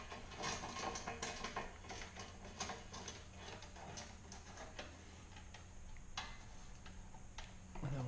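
Metal fittings being lightly tightened by hand while fitting a K&N performance cold air intake system, a steady run of small ticking, ratcheting clicks close by with no talk.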